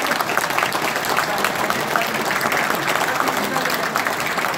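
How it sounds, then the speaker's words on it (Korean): Applause from a room full of alumni at a Busan High School alumni gathering in Seoul, a steady dense wash of clapping that holds evenly throughout, with a bit of crowd murmur mixed in. "함께 열심히 협력해서 열심히 해달라는 뜻에서 뜨거운 박수 부탁드리도록 하겠습니다"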